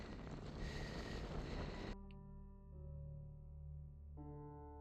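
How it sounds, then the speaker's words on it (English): Wind gusting across an exposed mountain ridge top above a reservoir, a steady broadband rush at first that drops to a lower, calmer roar with low buffeting on the microphone. "you can hear the wind here"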